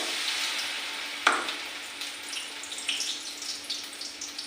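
Vegetables frying in hot oil in a wok, a bright hissing sizzle with a sharp burst as something hits the pan, then settling into steady crackle with small pops.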